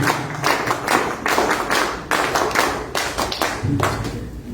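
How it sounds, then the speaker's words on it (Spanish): An audience claps to welcome a speaker at a talk on bicameralism, with fairly loud, uneven bursts of hands and some heavier thumping claps, fading and rising over a few seconds. "Fuertes palmas para recibirlo, por favor"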